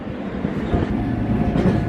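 A London Underground train rumbles and clatters past, loud and continuous, with a steady mechanical roar.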